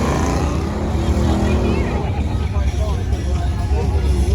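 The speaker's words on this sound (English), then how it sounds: "Very loud car." Loud big block Chevy muscle car engine rumbling at a night meetup, a dense steady roar up close that fills the whole stretch, with voices faintly mixed in.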